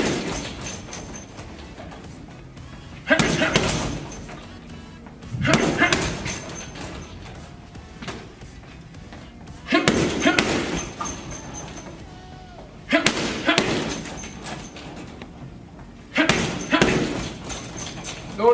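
Left hook punches landing on a heavy punching bag in a boxing workout, five loud thuds spaced roughly three seconds apart, each followed by a brief rattle of the bag, with quiet stretches between.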